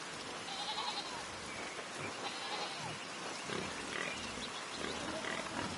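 Escaped sheep bleat in the video game Pentiment, several overlapping calls under a dense, steady background wash with no talk.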